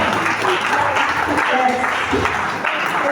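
A church congregation breaks into steady, dense applause that carries on throughout, with voices mixed into the clapping.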